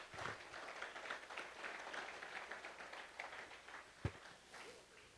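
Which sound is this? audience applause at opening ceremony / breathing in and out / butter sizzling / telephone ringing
audience applause at opening ceremony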